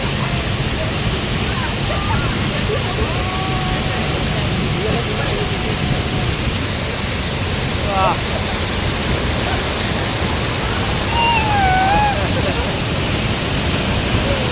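Hogenakkal waterfall on the Kaveri river, a steady, loud, broadband roar of falling water that runs unbroken throughout, with a few faint, high whistling calls rising briefly above it.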